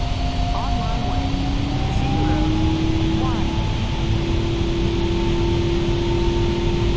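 Boeing 777 jet engines spooling at takeoff thrust in the PMDG flight simulator, a steady loud roar with rising whine tones, a cockpit voice speaking briefly over it.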